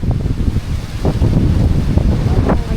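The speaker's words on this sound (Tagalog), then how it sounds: "At sobrang mahangin." Strong wind buffets the microphone continuously at an outdoor viewpoint in Aklan, Philippines, a loud rumbling roar with gusty surges and no talking.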